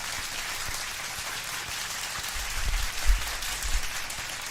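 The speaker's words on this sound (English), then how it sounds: "how about a big round of applause for Raphael Esparza?" A studio audience gives a steady round of applause for a guest on a UFC betting talk show, dense clapping sustained throughout and swelling slightly toward the end.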